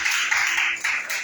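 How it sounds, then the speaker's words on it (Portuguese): A church congregation applauds together in praise during a worship service, a steady wash of many hands clapping close and full throughout, with no voices above it. "Aplauda o nome do Senhor."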